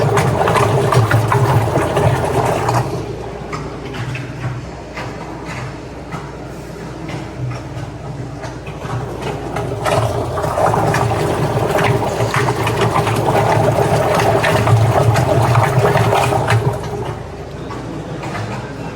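A VME-100L vacuum emulsifying mixer runs its dispersing function continuously with a steady mechanical drone and whir, its loudness swelling and easing slightly over time.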